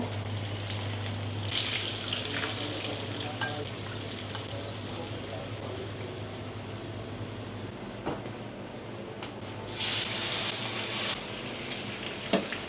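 Hilsa fish fries in hot oil with a continuous, moderate sizzle over a low hum, swelling into brief louder hissing bursts now and then.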